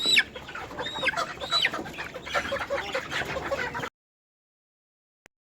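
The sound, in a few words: chickens clucking while being caught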